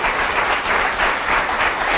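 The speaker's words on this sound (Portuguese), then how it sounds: "Para ambos, um aplauso." A studio audience applauds a guest and a dermatologist on a talk show, a brief burst of dense, steady clapping at full level with no talking.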